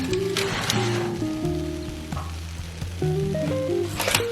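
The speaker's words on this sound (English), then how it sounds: "It's sizzling." Seitan that has just come out of the oven sizzles in its pan, a soft crackling fry heard alongside steady tonal hums.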